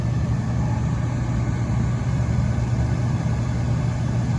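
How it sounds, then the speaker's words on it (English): A Trane rooftop heating unit with its venter motor running, giving a steady, loud, low mechanical hum with a constant tone and no change in level, no talk over it. "So the venter motor is running now."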